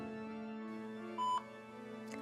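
Telephone dialing tones beep on a phone line, with a steady dial-tone hum, one short clear key beep near the middle and a fainter blip toward the end, heard alone without speech.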